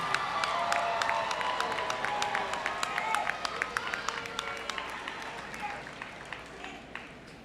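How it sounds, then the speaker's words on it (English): Graduation ceremony audience applauding at Neumann University, a sustained wash of many hands clapping with scattered cheers, steady and then slowly thinning out, with voices in the crowd. "give them a round of applause"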